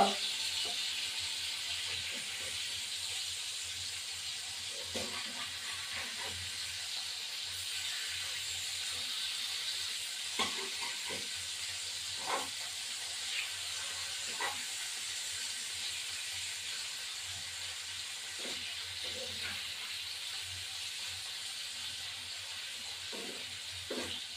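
Hilsa fish fries in a pan with a constant bright, hissing sizzle, broken by scattered soft pops and clicks, close and continuous with no talk.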